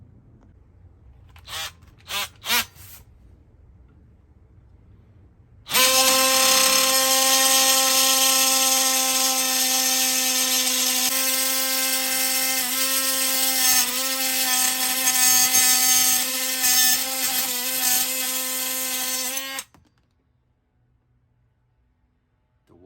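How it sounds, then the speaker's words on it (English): Cordless oscillating multi-tool with a metal-cutting blade sawing through metal seat studs in a Sprinter van: a few short buzzing bursts, then a loud sustained high-pitched droning cut for about fourteen seconds that stops abruptly into quiet. "cordless oscillating multi-tool. Killed it. Both studs off."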